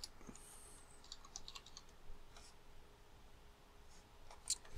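Quiet typing on a computer keyboard, a loose run of soft key clicks with a few louder taps near the end, close and faint with no voices.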